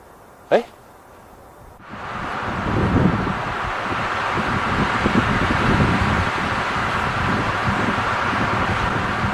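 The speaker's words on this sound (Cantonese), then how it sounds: "聽啲風吹過啲松樹嘅聲" Wind rushes steadily through pine trees in a broad, even roar, following a single sharp click at the start.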